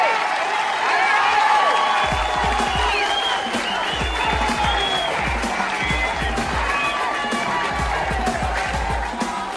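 An audience applauds steadily and loudly throughout, dense clapping with some cheering mixed in and a rhythmic low beat of music underneath.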